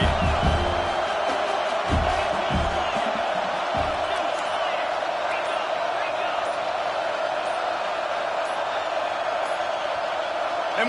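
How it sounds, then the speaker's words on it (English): A college football stadium crowd roars steadily during a Stanford versus UCLA game, a loud, sustained wash of cheering and noise with a few thumps early on and no break. "And with this place rocking, the crowd forces a false start."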